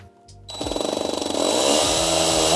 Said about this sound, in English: Now I would highly suggest pilot holes before you just start putting screws in.